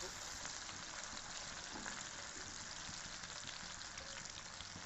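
Long-sliced onions frying in a pan toward golden for daal chawal, a steady dense sizzle running evenly throughout with no pauses.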